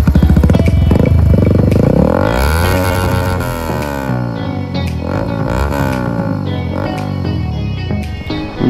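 A Yamaha R15 V3 motorcycle with a loud aftermarket exhaust revs hard up close, its engine note climbing and falling through several throttle sweeps and holding a steady roar throughout.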